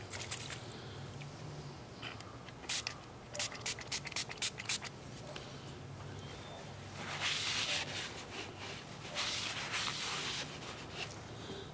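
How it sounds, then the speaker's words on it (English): Accelerator is sprayed onto a glued wooden bowl in a woodturning shop, heard as several short, close hissing bursts in a row and then longer sprays a little later, over faint background hum. "Now I'm just going to take some accelerator. And I'm going to spray it."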